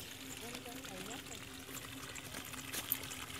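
Pumped river water runs through a ditch like a stream in a low-lying field of Vietnam's Mekong Delta, a steady close-up trickle and pour with a faint voice in the background.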